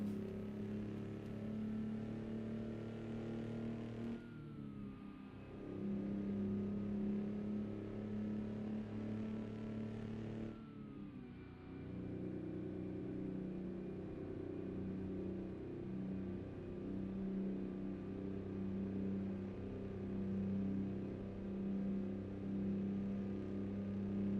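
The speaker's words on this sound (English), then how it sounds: "this is the kind of motor that does not like to be low RPMs" A cabover truck engine labors at low RPM while hauling about 90,000 pounds: a deep, steady rumble with two brief dips in power partway through.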